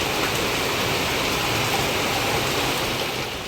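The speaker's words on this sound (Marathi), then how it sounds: "आणि पाऊस जोरात येते" Heavy monsoon rain pours steadily outside a home, a dense, even hiss of water on surfaces that stays loud and unbroken throughout with no one speaking.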